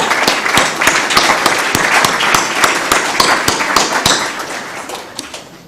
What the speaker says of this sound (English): Let us clap for